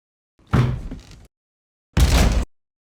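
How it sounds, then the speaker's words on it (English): Two heavy thuds against a door, spaced over a second apart, loud and close with no voices. "And we've got some pounding on the door"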